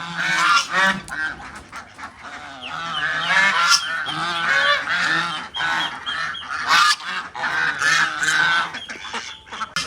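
Farm ducks, including a white duck, honk and quack loudly in a dense, overlapping chorus of harsh nasal calls close by, continuing without pause.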